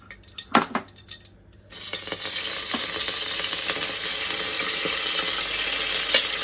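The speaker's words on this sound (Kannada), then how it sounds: "ಸಾಸಿವೆ ಹಾಕ್ತಾಯಿದ್ದೀನಿ." Mustard seeds dropped into hot oil in a pan for a pigeon pea curry: a few sharp clatters, then a loud, continuous close sizzle with faint popping that carries on to the end.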